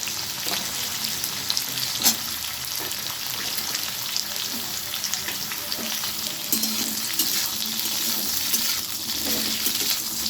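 Drumstick pieces and potatoes fry in a pan with a loud, continuous close sizzle, broken now and then by stirring scrapes.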